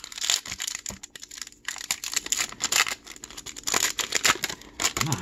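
Crisp crinkling and tearing of a 2020 Panini Contenders trading card pack foil wrapper, a close run of rapid rustles and rips with brief pauses, alone without talk.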